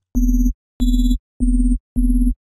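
Serum synth bass with downsample distortion adding bright upper harmonics: four short, punchy bass notes in an even rhythm, each held briefly, loud and dry with gaps of silence between.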